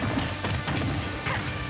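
A hammer smashing a chicken in Super Smash Bros. for Wii U, sharp crashing hits and whacks in quick succession amid busy game sounds, fairly loud and up close.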